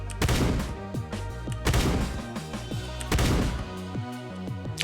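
Shotgun blasts in the video game Shortventure 3, three heavy booming volleys spaced evenly apart, each followed by a burst of rapid impact clatter and ringing tones, loud and with no talk.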